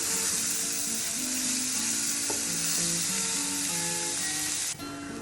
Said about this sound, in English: When the oil is hot, just add the chopped onions and the chopped green chilies. Now saute them thoroughly.